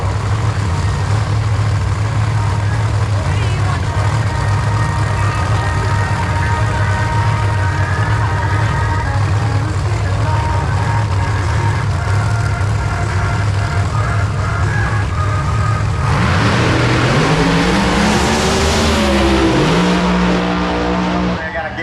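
Pro Mod drag race cars roar loudly and continuously at Bradenton Motorsports Park, the engines climbing in pitch as they launch and scream down the strip, with an announcer talking over them.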